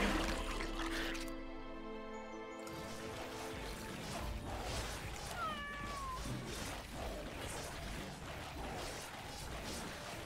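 A cat meows in the video game Legion TD 2, heard briefly as a couple of short rising cries amid quiet game effects and a soft background hum.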